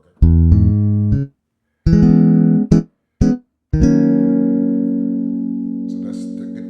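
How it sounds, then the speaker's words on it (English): Jazz guitar tone from a keyboard sound module, a few clean plucked chords and short stabs with gaps, ending on one long ringing chord that slowly decays. "It's kind of a jazz guitar sound there"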